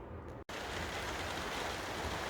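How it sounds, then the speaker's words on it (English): Rain falling outside during a sun shower, a steady hiss of dense drops with one very brief gap near the start. "It's raining outside, but they're having a sun shower."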